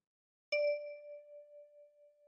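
A lone right-thumb pluck on a ten-key kalimba gives a bright, chiming metal tine note up close, ringing steadily and fading slowly with no other sound.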